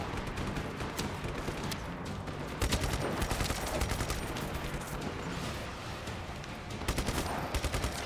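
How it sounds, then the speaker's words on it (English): Continuous gunfire and explosions from Just Cause 3, rapid automatic shots layered over heavy blasts, loud and dense throughout with bursts of louder impacts around the middle and near the end. "I'm just blowing up your shit."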